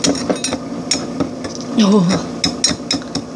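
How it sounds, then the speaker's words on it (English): Hardened salt being chipped away in a sink gives a run of sharp, close knocks and scraping clinks at an uneven pace, with a brief spoken exclamation partway through. "just chipping away at it. And I do it in the sink just so it stays cleaner."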